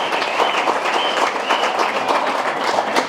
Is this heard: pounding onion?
no